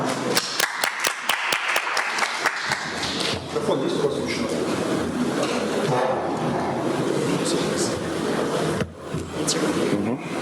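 Conference audience applauding to welcome a speaker at a mining industry event in Kazakhstan, loud sustained clapping from a large hall crowd with a few sharp claps at the start, fading slightly near the end with some murmuring voices.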